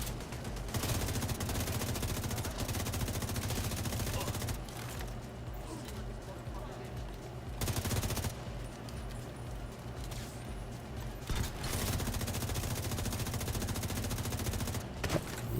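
Sustained gunfire from the video game The Division 2, dense rapid automatic bursts that run almost nonstop at steady loudness with a few short breaks, mixed with game effects and a player talking.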